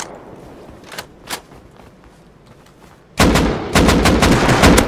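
Bolt-action rifle shots in the survival game Rust: two sharp, fairly distant cracks early on, then a loud burst of dense, overlapping gunfire that continues to the end.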